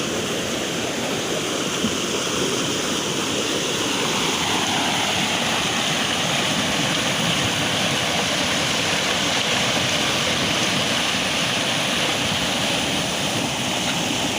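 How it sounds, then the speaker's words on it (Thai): Ton Ta Thuea waterfall in Surat Thani, Thailand, roars steadily and loudly, a continuous rush of falling water close by with no talking. "ตอนนี้เราก็ลงมาถึงน้ำตกแล้วนะ"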